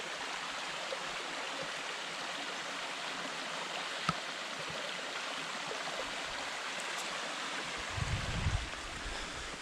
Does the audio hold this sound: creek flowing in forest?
yes